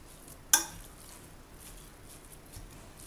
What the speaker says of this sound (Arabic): هذا اللحم نتاعنا فوحناه، خلطوه مليح بالفاح